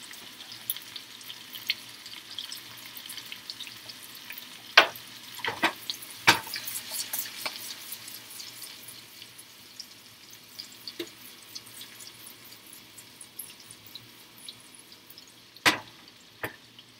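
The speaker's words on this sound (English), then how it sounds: "We'll let that simmer for just a little bit longer" Food simmers and chars in a pan, a soft, continuous low crackle broken by a few sharp clinks and scraping knocks scattered throughout, with no voices.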